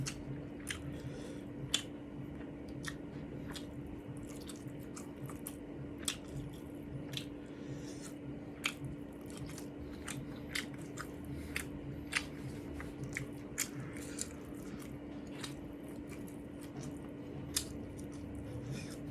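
Wet, squishy chewing of Vietnamese nem nuong wraps, with frequent short crisp bites and smacks over a steady low hum, close and fairly quiet throughout.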